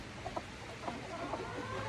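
A broody hen gives a few soft, short clucks in quick irregular bursts, fairly close but quiet, over a low background hum.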